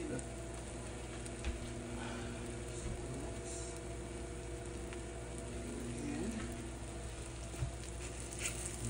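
Croissant French toast soaked in eggs and vanilla fries in butter in a pan, giving a steady, even sizzle with faint crackles, low and continuous throughout.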